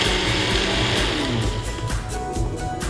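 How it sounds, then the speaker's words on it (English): A small kitchen blender whirs continuously and loudly up close as it mixes a sweet corn shake, its motor roar steady with slight fluctuations and no talking. "My little blender here."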